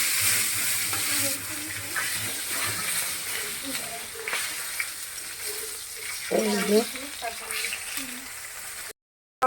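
Fish fry in a pan with a low, steady sizzle and occasional stirring or handling noises, mostly under a person talking nearby.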